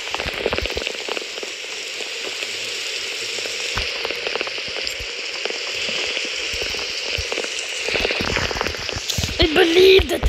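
Continuous rain hisses steadily on a surface nearby, with faint voices and a brief louder clatter near the end.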